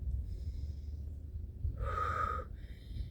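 Breathing during squat exercises: a soft rushing inhale followed by a stronger, sharper exhale through the nose, then another breath, close and quiet with no talk.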